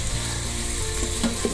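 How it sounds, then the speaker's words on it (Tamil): Ginger garlic paste with green chillies frying among softened onions in a pan, a dense, close, continuous sizzle with faint stirring scrapes toward the end. "இஞ்சி பூண்டு பேஸ்ட்டும் வதங்கிடுது."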